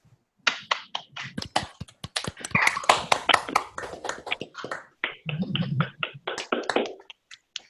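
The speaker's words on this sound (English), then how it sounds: "we're all going to clap for our presenters and speakers and each other for showing up" Scattered claps from participants at the end of an online meeting, a loose flurry of hand claps and taps of varied loudness overlapping irregularly for several seconds, thinning out toward the end.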